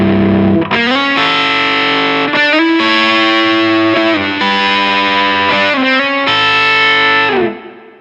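Heavily distorted electric guitar chords ring out loud and thick with gain, changing every second or so before fading at the end.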